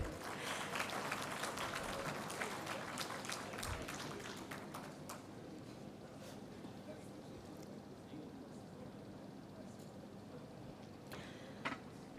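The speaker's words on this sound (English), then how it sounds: "Can I have a round of applause," An indoor audience at a defence conclave inaugural session claps for dignitaries, a dense burst of applause for about five seconds that thins into scattered claps and room murmur, with a few taps near the end.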